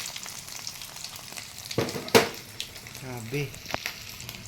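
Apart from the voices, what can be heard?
dried fish (tuyo) frying in oil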